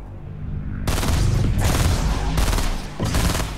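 Fortnite gunfire rattles in dense, sustained bursts from near range, loud throughout with brief gaps between volleys after a quieter opening.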